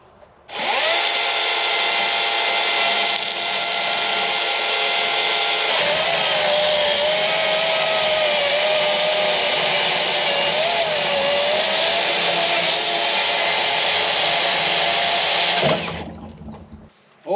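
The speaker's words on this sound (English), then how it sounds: "I'm just going to get my chainsaw out" A chainsaw roars at full throttle for about fifteen seconds as it cuts wood, a steady whining engine that stops abruptly.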